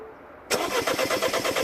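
A Mini Cooper S with the N14 engine and a no-start fault cranks after a quiet pause, the starter motor churning in a fast, even pulsing rhythm up close without the engine catching.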